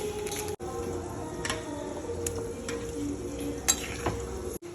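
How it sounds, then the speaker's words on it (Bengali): Chitol fish muitha dumplings simmer in a bubbling fish curry gravy, a steady close hiss of boiling broken by a few soft spoon clinks and two brief dropouts. "এই যে আমার ঝোলটা ফুটে উঠেছে"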